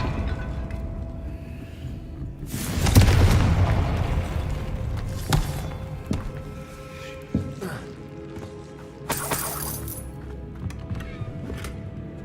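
Confringo blasting spells in Hogwarts Legacy: a loud booming burst rumbles for about a second, followed by scattered sharper impacts and a bright crackling blast later, over low game ambience.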